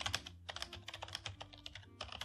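Typing on a computer keyboard in WordPad on a Windows Millennium machine: a short, quiet burst of close, quick key clicks in an uneven rhythm, with no talk.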